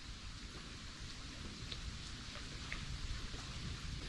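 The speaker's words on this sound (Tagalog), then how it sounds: "Ulan na." Steady rain falls outdoors at a rustic riverside camp, a soft continuous hiss of drops on surfaces, faint and even throughout with no voices.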